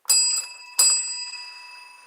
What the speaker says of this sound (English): The bell seems louder.